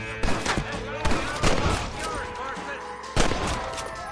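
Gunfire in the Western video game Red Dead, several loud close shots and bursts spaced unevenly across a busy battle mix, with in-game voices talking between them.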